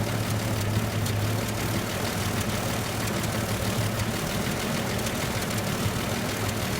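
A new generator's engine idles steadily with a continuous low rumbling drone, close and fairly loud, without pauses or speech.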